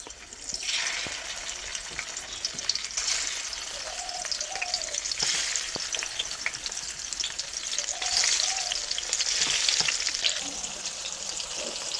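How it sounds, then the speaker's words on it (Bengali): Fish pieces fry in hot mustard oil, a busy crackling sizzle that swells and spits with sharp pops, heard close and alone with no talk. "তেলটা গরম হয়ে গেছে, মাছগুলো আমি দিয়ে দিচ্ছি।"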